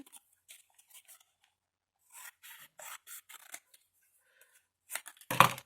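Quiet large scissors snipping and rasping through scrapbooking paper in short bursts with pauses, ending in a louder clatter.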